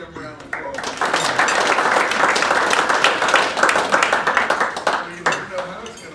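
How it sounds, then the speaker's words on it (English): A luncheon audience applauds a cross-country team, with a steady round of clapping that swells quickly and holds for several seconds before tapering, while faint voices and a clink of dishes sit underneath. "Let's give them a round of applause."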